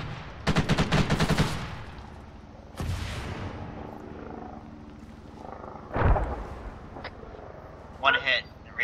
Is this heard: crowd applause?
no